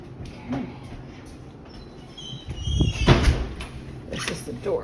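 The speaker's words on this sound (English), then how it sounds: "This is the door. We're going to make sure it's locked properly," A back door pushed shut and locked, giving a few close knocks and a rattling thunk near the end, with a person speaking over it.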